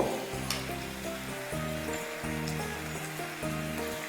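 Onions cook down in a pan for mutton rezala, with a constant gentle sizzle over a steady low hum and a few faint clicks.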